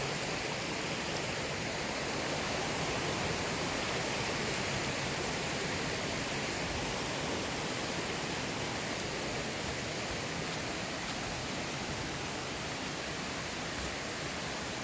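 Steady, dense roar of rushing water, loud and continuous throughout with no pauses, a powerful waterfall close by at McGalliard Falls.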